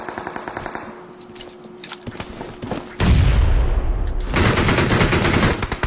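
Machine gun fire in a video game rattles in rapid repeating bursts, lighter at first and then a loud, dense, continuous barrage with deep booming weight close by.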